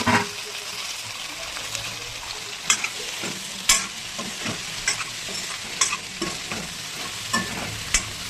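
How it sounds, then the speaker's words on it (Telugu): Cut okra frying in oil in a pan, with a steady close sizzle and a series of sharp scrapes and knocks as the pieces are stirred, no talking. "ఇప్పుడు దీంట్లోకి కట్ చేసుకున్న బెండకాయలన్నీ వేసేద్దాం."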